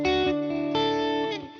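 Electric guitar chords through a HoTone Ampero Stage ring out with a washy delay echo and lingering reverb tail, loud and close, with no voices.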